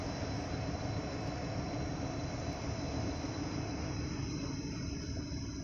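Indian Railways Ludhiana Express with a Ghaziabad-shed WAP-7 electric locomotive, a steady loud broadband rumble and hiss of the train running, continuous throughout with no voices.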